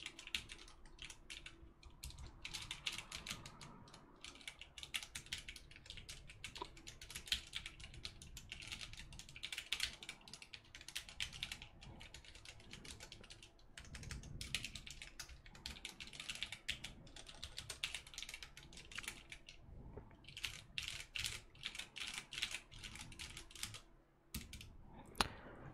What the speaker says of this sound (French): Donc ça, c'est le bruit de switch rouge pour la plupart.